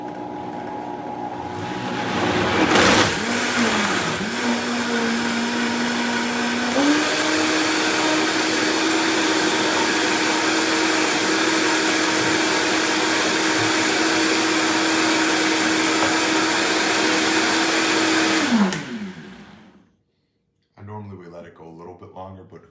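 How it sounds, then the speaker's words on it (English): A Vitamix blender whirs loudly at high speed in a kitchen, a steady motor drone that steps up in pitch and then winds down sharply, followed by a person talking. "But who wants to listen to the blender all the time?"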